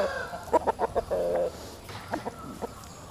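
An eight-month-old rooster, a cross of a pitbull male and a black bull hen, clucks in short rhythmic bursts in a pen in Bogor. The calls are close and moderately loud, with a brief pause between two clusters.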